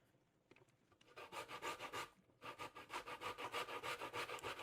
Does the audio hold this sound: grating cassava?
yes